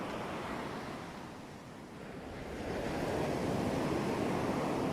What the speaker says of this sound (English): You know the splashing water by the side of that whale?